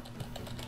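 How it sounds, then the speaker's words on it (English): Computer keyboard keys tapped at a steady, fairly quick pace while entering a library search in configuration software, light clicks close by and moderately quiet, no voice. "I'm typing in French because I'm French"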